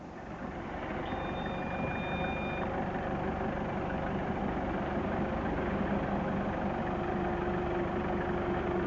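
A vehicle engine runs steadily close behind at an airbase cockpit club, a continuous low rumble with a brief high beep early on; no speech.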